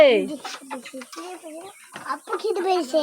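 Chickens cluck and squawk close by in a poultry farm coop in a busy, overlapping flurry, with a brief crow-like call at the start.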